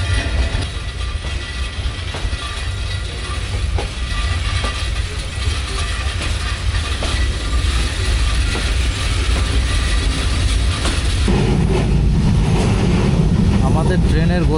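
Upaban Express passenger train on the Sylhet to Dhaka line rolling slowly, a steady close rumble with mechanical rattling and clanking that grows heavier and louder toward the end.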